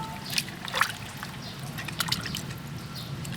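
Young ginger is washed under running water, a steady, fairly quiet trickle with small splashes and clinks from the handling, and no talking.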